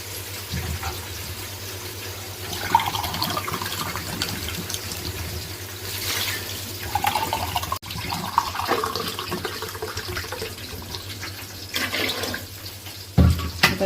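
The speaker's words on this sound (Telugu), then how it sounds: "మనం దీంట్లో వాటర్ వేసుకుంటాం" Water pours into a cooking pan in a home kitchen as a spiced rice dish is prepared, a steady splashing wash with a few brief clinks and no voices.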